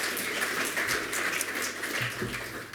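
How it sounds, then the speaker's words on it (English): Applause from a seated audience at a landfill industry presentation: a steady wash of many hands clapping at moderate distance, holding at an even level for a few seconds with no voices over it. "Let's get another round of applause for Jason."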